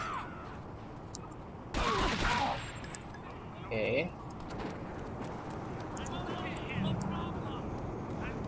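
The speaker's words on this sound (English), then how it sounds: "Some more people shooting" Bursts of gunfire from people shooting in GTA 3 break out in a loud cluster, then a brief second volley, under steady game noise and someone talking.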